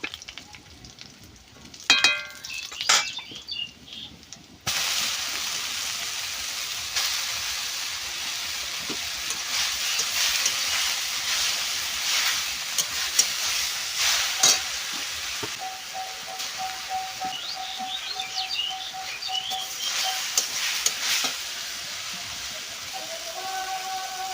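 Tender jute leaves hit a pan of frying garlic and sizzle steadily for a long stretch, with occasional clatter and scraping from stirring and a brief tonal beep partway through.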